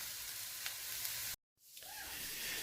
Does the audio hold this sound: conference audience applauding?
no